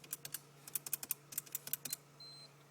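Quick bursts of key presses as a code is entered on a car security keypad, close and crisp clicks in uneven clusters, followed by a short electronic beep.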